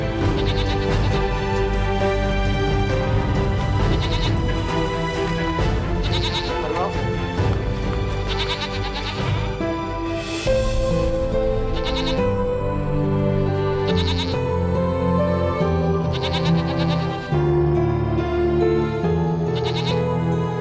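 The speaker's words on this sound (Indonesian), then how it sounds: "Sekarang kita gembalakan kambing dulu ya." A herd of goats being taken out to graze bleats over and over, with several loud overlapping calls set against a musical soundtrack in an Indonesian legend drama.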